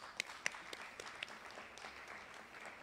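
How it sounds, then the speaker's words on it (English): Sparse, fairly faint applause for panelists at a community development symposium, a few distinct claps standing out at the start before a soft steady patter of clapping. "please, another round of applause for them"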